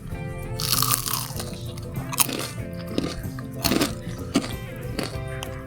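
Crunchy fried Indomie noodle snack bitten and chewed close to the mic, a series of sharp crackling crunches, several distinct bites spread across the clip over a faint background hum.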